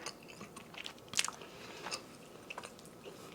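Biting and chewing smoked barbecue ribs cooked on a 500-gallon offset smoker, a close crunch with a sharp bite near the start of the second second, then soft moist chewing, no talk.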